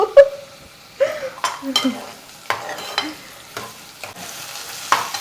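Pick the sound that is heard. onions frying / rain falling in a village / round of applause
onions frying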